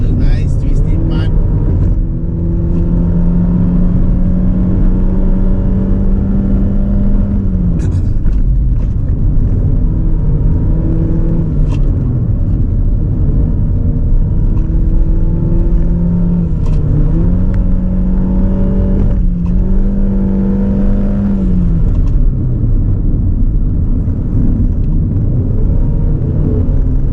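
A 2020 Honda BR-V's engine drones loudly from inside the cabin on a twisty road, pitch rising and falling with acceleration and gear changes through the bends, with a steady road rumble underneath.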